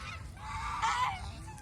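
Farm ducks give a short, close, nasal honking call lasting about a second over low background rumble, with no talking.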